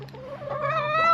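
A chicken in a homestead coop giving a rising, drawn-out cluck-like call, close and fairly loud over a steady low background hum.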